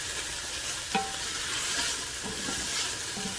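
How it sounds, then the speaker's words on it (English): Onions softening in a frying pan give off a steady, soft sizzle, with a few light stirring scrapes and one sharper tap near the start. No voices. "let this cook down a little bit until these onions get all nice and tender and soft"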